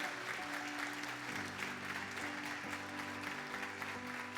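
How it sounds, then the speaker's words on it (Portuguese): Steady, dense applause from a church congregation during a worship service, sustained throughout with a faint musical tone held underneath. "Porque você vai ter que aplaudir isso."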